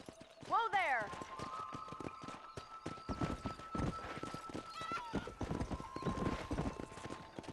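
Horse hooves clip-clop at a steady trot in the video game Red Dead Redemption 2, near and continuous, starting with a horse whinny and running beneath game music tones and someone talking.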